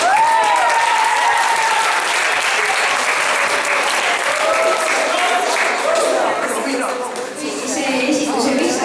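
A dance-show audience breaks into sustained, loud applause, a dense wash of clapping with cheering voices mixed in, fading slightly toward the end.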